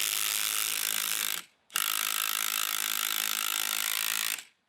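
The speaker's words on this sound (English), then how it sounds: "1/2 inch impact wrench, 3/8 inch impact wrench" Two loud bursts of a DeWalt impact wrench driving a fastener, a brief one then a longer sustained rattling run, close up and harsh, with a short pause between.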